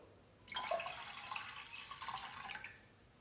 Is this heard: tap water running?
yes